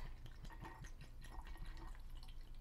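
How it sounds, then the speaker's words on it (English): Hennessy cognac is poured into a glass over ice for a cocktail, a faint close trickle with small splashing drips and no talking. "We're gonna pour that to our liking,"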